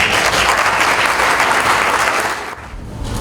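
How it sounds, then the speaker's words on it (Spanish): An audience at a formal lecture on housing statistics in Peru gives a guest speaker a loud, dense round of applause that fills the room, then eases off slightly toward the end. "a quien vamos a recibir con un fuerte aplauso"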